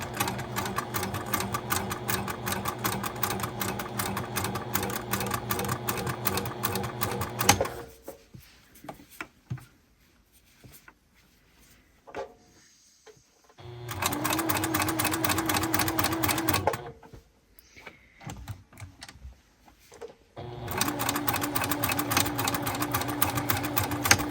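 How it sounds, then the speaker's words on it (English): A sewing machine stitches a repair patch on a bra in rapid mechanical bursts, running for several seconds, pausing in quiet gaps with faint handling noises, then starting up again; close and clear. "with my sewing machine, using my reverse and keeping the edges and the repair patch as flat as I can"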